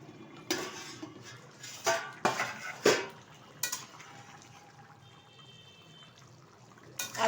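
A few metallic clanks and scrapes as the lid comes off a pot of simmering potato, parwal and paneer curry, followed by a quieter stretch of soft bubbling with faint tones.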